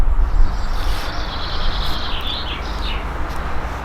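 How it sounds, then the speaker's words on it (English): Birds sing in a garden, thin high chirps and warbles sitting well in the background over a constant low rumble of road traffic, with no talk. "So you may be able to hear the birds in the background,"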